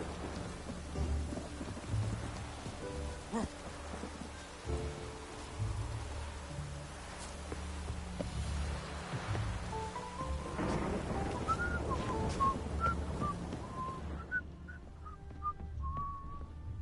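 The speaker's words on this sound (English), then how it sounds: "Hope it rains like this come sowing time." Steady rain pours with deep rolls of thunder in The Witcher video game, loud and continuous, as wind-like whistling tones rise near the end before the storm sound cuts away.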